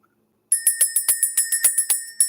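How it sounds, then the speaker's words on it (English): A small hand bell rung to clear energy, a rapid series of bright, ringing jingles with shimmering overtones, close and fairly loud, starting after a brief silence and continuing steadily. "We're going to ring the bell."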